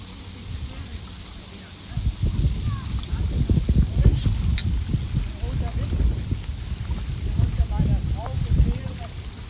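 Wind buffets a microphone at a riverbank, a steady low rushing roar that swells after a quieter start and keeps blowing strongly to the end.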